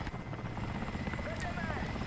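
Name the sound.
Mi-8AMTSH helicopter rotor in video game War Thunder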